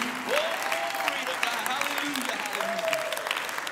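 Congregation clapping hands during a Sunday church service, a steady patter of applause running under a preacher's voice that speaks and exclaims over it.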